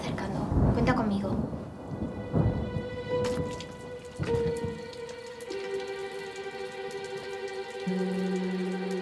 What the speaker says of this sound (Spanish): La tormenta se está acercando.